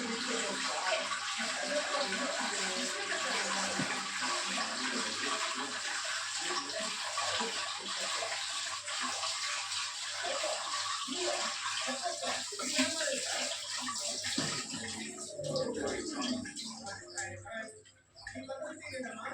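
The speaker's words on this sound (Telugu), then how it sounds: "తర్వాత అయితే నీటికి కడుగుదాం మనం" Fresh mint leaves are rinsed in water in a home kitchen, giving a steady splashing, running-water wash that continues for most of the stretch while someone talks over it.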